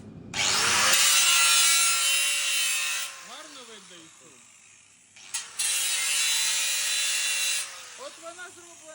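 Angle grinder grinding stainless steel for a spark test, two loud sustained grinding passes separated by the whine of the disc spinning down, with a brief voice between them.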